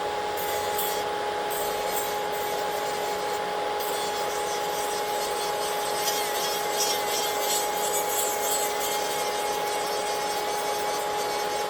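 A Saviland electric nail file spinning at 50,000 RPM gives a steady, close, high whine with a faint scratchy grinding texture, running evenly from start to finish with no voices.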